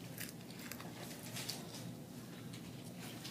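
Someone bites into crispy homemade microwave potato chips, producing faint, quick crunching bites in a quiet room.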